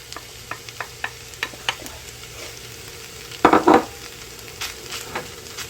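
A spoon taps and scrapes in a pan while lobster ravioli filling cooks, with sparse clicks over a soft sizzle and a louder scraping burst midway.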